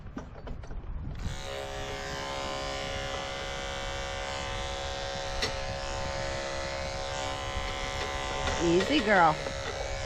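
Electric clippers shave around the small horn nubs of a polled goat, a steady close buzzing hum that runs continuously, with a person speaking softly to the animal.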